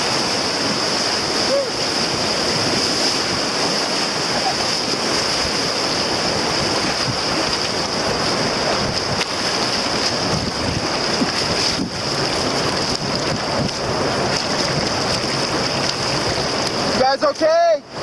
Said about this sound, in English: Yeah, white water, that's where we're heading.